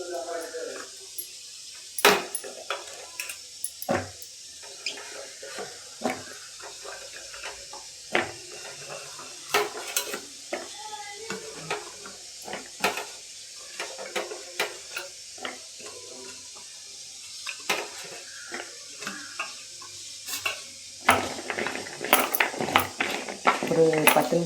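Raw banana pieces are mixed by hand with masala for banana 65, making soft, irregular squelching clicks and rustles at close range.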